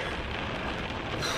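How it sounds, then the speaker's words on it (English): Steady rain falls on a surface outdoors, a dense, even hiss with no breaks. "It is raining. It is not a nice day out."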